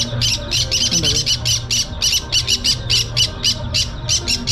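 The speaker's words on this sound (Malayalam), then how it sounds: "എല്ലാം ഉണ്ട്, മരത്തിൽ ഫുൾ" Loud, harsh bird squawks repeat in a fast, regular rhythm from a dense flock in trees nearby at an exhibition in Kochi, the calls overlapping continuously.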